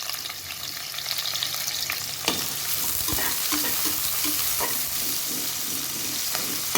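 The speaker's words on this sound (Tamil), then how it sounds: "அப்புறம் நம்ம நீளமாக நறுக்கி வச்சுருக்க வெங்காயத்தையும் ஆட் பண்ணிக்கலாம்." Long-sliced onions and green chillies sizzle in hot oil inside a cooker for plain biryani, a steady loud frying hiss with occasional stirring scrapes and pops, close up and without talk.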